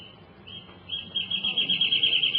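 A wrentit calls in foothill scrub, a high, steady run of repeated notes that starts thin and grows louder and more insistent toward the end, heard alone over faint background.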